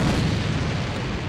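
A grenade blast in a competitive video game, a single loud, low boom whose rumble fills the short clip and slowly decays.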